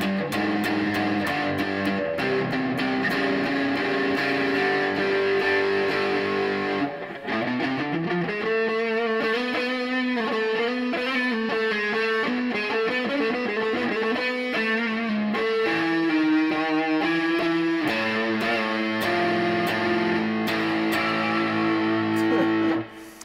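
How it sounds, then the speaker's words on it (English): Heavily distorted electric guitar through a Boss Katana 50 amplifier on its distortion channel plays sustained chords and riffs, loud and continuous, with a thick saturated tone throughout and no talking. "if you want crazy distortion"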